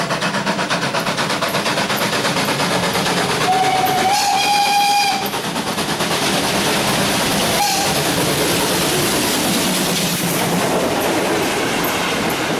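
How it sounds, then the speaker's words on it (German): A heritage train climbs a short incline loudly, with a continuous heavy rumble and clatter of wheels on track and a shrill whistle sounding twice over the steady roar. "entsprechend lautstark kämpft sich unser Zug die kurze Steigung hinauf"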